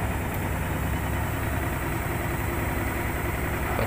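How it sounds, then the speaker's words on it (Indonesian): A Lux Royal WH 1092 washing machine spinning at high speed, climbing from around 600 to 1000 rpm, giving a steady, dense whirring roar that stays even and continuous at close range. "mesin cuci akan melakukan spin sekitar 600 rpm, kemudian speed kencang hingga 1000 rpm"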